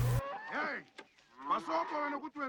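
Cattle lowing in a 1980s film about Shaka Zulu, a few drawn-out moos overlapping one another at moderate distance, with no talk.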